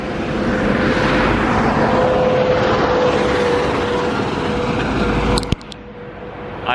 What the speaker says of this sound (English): Like trucks coming over.